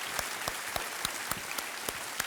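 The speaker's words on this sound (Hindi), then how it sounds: "एक बार तालियों के साथ इनका एक बार फिर से अभिनंदन" Studio audience applause on a TV quiz show set, steady clapping with distinct sharp claps standing out at regular intervals, moderately distant and sustained.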